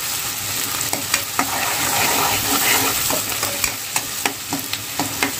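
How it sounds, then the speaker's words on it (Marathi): Onion and curry leaves fry loudly in a pan for an egg masala curry, giving a continuous close sizzle broken by sharp scraping strokes of a stirring spoon. "कांद्याला ब्राऊन कलर येईपर्यंत आपल्याला फ्राय करायचं आहे."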